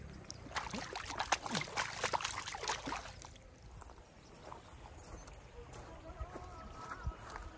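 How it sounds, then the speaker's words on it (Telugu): Fish being rinsed by hand in river water at a village riverside, splashing and trickling sounds with quick bursts of close water movement early on, then softer dribbling against steady outdoor background. "చేపలు ఇప్పుడు వాటర్ లో కడుగుతున్నాను."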